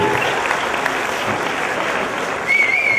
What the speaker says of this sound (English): Give them a big round of applause as they return to the seats.